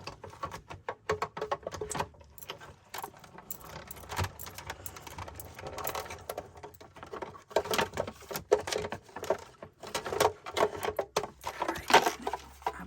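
A card-making embossing machine draws a folder with a card front through its rollers, giving soft, irregular clicking and rattling at low volume, close by and with no voices.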